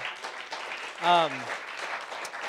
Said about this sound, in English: So can you guys please give a round of applause?